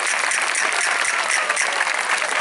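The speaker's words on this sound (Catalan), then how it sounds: "Un aplaudiment per a Pipita Roca." Steady, dense applause from an outdoor sardana festival audience in Deltebre, Catalonia, loud and sustained without a break throughout.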